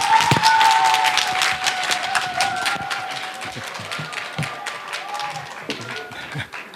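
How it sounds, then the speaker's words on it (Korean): An audience applauds to welcome a visiting chair professor to a university art history department's 20th-anniversary special lecture, a steady patter of many hands clapping that runs the whole time and slowly thins toward the end. "여러분들 이태호 석좌 교수님 박수로 맞아주시기 바랍니다"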